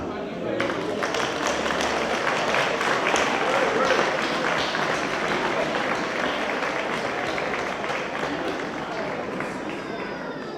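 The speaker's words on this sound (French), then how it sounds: "Vous pouvez encore applaudir Badiane" Sustained audience applause at a French-language literary and cultural gathering, a loud, dense clatter of many hands clapping that holds steady for several seconds with crowd noise mixed in.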